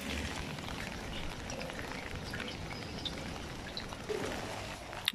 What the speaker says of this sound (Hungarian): Csövön át belefolyik, és így gyűlik.